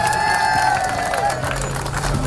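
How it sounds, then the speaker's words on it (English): An evening event audience at the Twilight Walk gives a round of applause and cheers as the Royal Bournemouth Hospital chairman is welcomed onstage, a brief steady burst of clapping with some voices mixed in. "Could I ask you to make a massive round of applause as we welcome to the stage the Royal Bournemouth Hospital Chairman, Jane Stitchbury."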